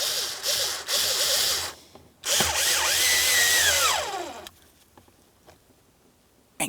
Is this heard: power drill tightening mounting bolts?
yes